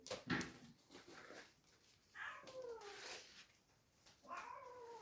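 A cat lets out several drawn-out, wavering meows and yowls during a fight, faint and somewhat distant, with quieter rustling between the cries.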